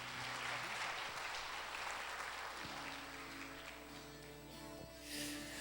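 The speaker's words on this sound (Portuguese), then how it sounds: "Você consegue dar uma salva de palmas a esse Deus poderoso," A congregation applauds during a Portuguese-language worship service at a Baptist church in Santa Maria. Dense, steady clapping fills the room at a fairly faint level over a sustained musical drone, swelling slightly near the end.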